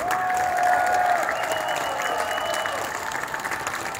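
A crowd applauds at a stage event, a broad, sustained wash of clapping with a faint whistle-like tone early on, continuous and evenly loud throughout.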